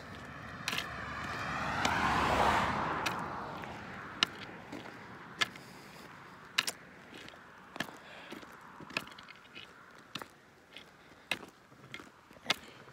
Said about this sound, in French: On va attendre que la voiture passe.